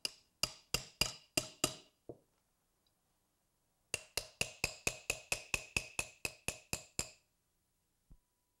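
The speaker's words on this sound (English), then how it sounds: "So you take a punch and put on that pin" Hammer striking a punch to drive out the firing pin of a SIG pistol, sharp close metallic blows in two bursts, six then about fourteen in steady rhythm, with a final lone tap after a pause.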